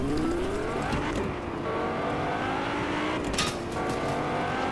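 Car engine in Fortnite revving steadily with rising and falling pitch, loud and close, sweeping through gear changes without any talking.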